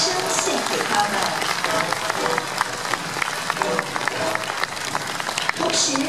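Audience applause for the band at the close of a Chinese face-changing show, a dense, steady wash of clapping from a large crowd filling the whole stretch at full strength.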